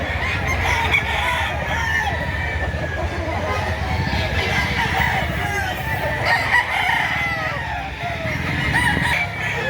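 Several roosters crow one after another amid steady clucking from many chickens at a chicken market in Lipa, Batangas, while people talk in the background.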